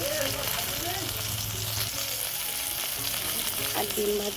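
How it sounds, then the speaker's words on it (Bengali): Small okra (bhindi) pieces frying in a pan, giving a steady, moderately loud sizzle with a few stirring scrapes; no one speaks. "5 টাকার মতো ভিন্ডি নিয়ে ভাজা করছি"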